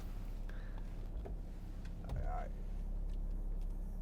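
A 2014 BMW 4 Series Gran Coupe 430d drives along with a steady low engine and road hum throughout, and a few faint clicks and a brief louder rumble partway through.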